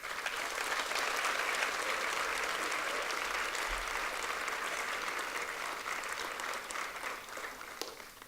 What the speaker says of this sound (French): On vous applaudit et on vous remercie d'être ici ce soir.